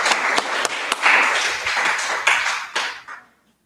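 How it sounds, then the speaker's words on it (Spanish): A classroom group claps for a team's presentation: a dense burst of hand clapping with a few sharp individual claps, steady for about three seconds before tapering off quickly into silence. "le brindamos un aplauso"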